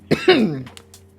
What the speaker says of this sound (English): And I have to cough when I say that